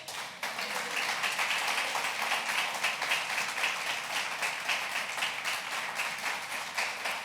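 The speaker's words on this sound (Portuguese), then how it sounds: "saúde o Senhor Jesus com as suas palmas" A church congregation applauding, a sustained wash of many hands clapping that starts abruptly and stays loud and dense throughout, filling a large room, with no one talking.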